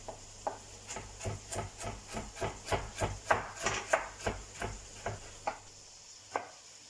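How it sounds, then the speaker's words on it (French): A knife dices carrots into small cubes on a cutting board, about twenty crisp, evenly paced chops in a steady rhythm, close and clear with no talking. "Alors on va passer à la découpe des carottes"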